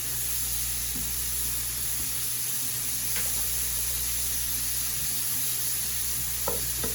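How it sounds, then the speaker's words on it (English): Cabbage fries in a hot pan with a steady, even sizzle and hiss, close and continuous, with a few faint clicks and scrapes of stirring. "Here I have my fried cabbage."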